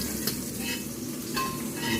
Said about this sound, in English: These have been sauteing for about 5 minutes